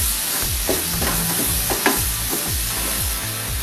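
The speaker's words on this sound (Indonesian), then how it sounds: "Kita tumis sampai harum." Lemongrass, galangal and kaffir lime leaves sizzling in a pan with a constant frying hiss and repeated rhythmic scrapes of a spatula stirring close by.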